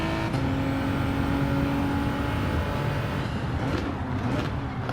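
Race cars in a Group 4 drag-race stretch at a virtual WeatherTech Raceway Laguna Seca in a racing video game, a loud steady engine drone holding high revs throughout with a shifting tone near the end.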